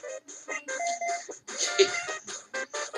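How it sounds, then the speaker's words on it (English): Phone alarm going off with a repeating electronic melody in short rhythmic bursts, loud and close, with no talking over it. "that's my phone going off. It's my 4 o'clock alarm."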